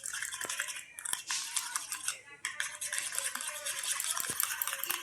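Powdered sugar is stirred into a mixture with close, quick scraping and tapping strokes, and a soft voice speaks now and then in the background.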